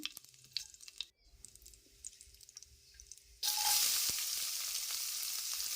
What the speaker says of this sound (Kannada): ಕಡಾಯಿಯಲ್ಲಿ ಎಣ್ಣೆ ಇದೆ ಅದಕ್ಕೆ ನಾನು ಜೀರಿಗೆ ಹಾಕ್ಕೊಳ್ತೇನೆ ಹಾಗೆ ಈರುಳ್ಳಿ ಹಾಕ್ಕೊಳ್ತೇನೆ